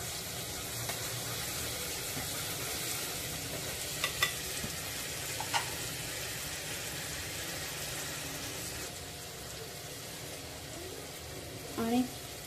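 Asafoetida and ginger-garlic paste frying in oil for drumstick pulao, a steady, soft sizzle throughout with a few light clinks of a utensil and a brief scrape near the end.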